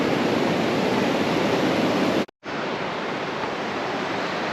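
A creek flows steadily through lush, jungle-like woods, a loud, even rush of water that cuts out for a split second midway and then resumes.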